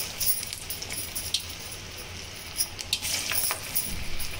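Lauki (bottle gourd) koftas frying in hot oil on a low gas flame give a steady close sizzle with scattered sharp crackles and pops, with no voices.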